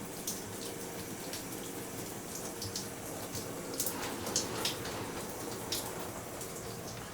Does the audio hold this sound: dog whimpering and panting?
no